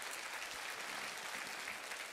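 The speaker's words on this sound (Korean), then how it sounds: "여러분 한 번만 더 박수를 쳐주시겠습니다" A church congregation applauds steadily for about two seconds, a dense, even patter of many hands clapping at once in an indoor worship hall.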